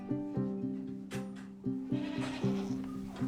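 Goats bleating repeatedly at kidding time in the Cévennes countryside, several loud overlapping cries with tonal harmonics following one another in quick succession, near and clear with no talk.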